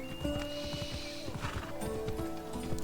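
A horse whinnies in a long, wavering call while hooves clip-clop steadily close by, with a faint game-like background tone.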